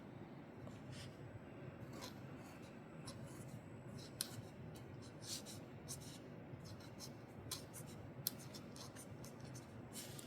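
A pen writing calligraphy on an envelope, faint continuous scratching strokes with small taps and pauses, quiet and close, without speech.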